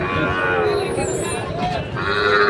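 Cattle at a busy market for Sahiwal-breed bulls and calves moo loudly over steady crowd chatter, with a few drawn-out calls close by.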